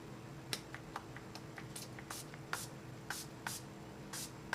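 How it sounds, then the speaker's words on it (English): A pump bottle of Pixie Glow Tonic toner sprays a fine mist in a quick series of short, quiet spritzes, about a dozen bursts in an irregular rhythm. "it's a very fine mist, and it's like a good pump too"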